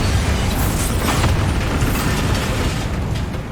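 Bombarda blasting spell explosion in Hogwarts Legacy, a loud sustained roaring boom with crackling debris that stays dense and heavy throughout, with no talk over it.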